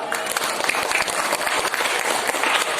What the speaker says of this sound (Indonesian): tepuk tangan untuk pemimpin negara